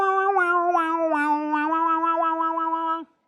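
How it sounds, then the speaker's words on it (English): A harmonica blown in a steady sustained tone with a few pitch shifts, loud and close, ending abruptly after about three seconds. "hold the harmonica in your hands like this"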